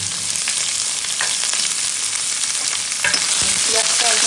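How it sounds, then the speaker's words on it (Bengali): Raw onion fries in hot oil with bay leaves and whole cumin, a loud steady sizzle and hiss with stirring scrapes and a louder burst of spitting near the end, no voice heard. "এখন আমি এখানে দিয়ে দিচ্ছি কাঁচা পেঁয়াজ"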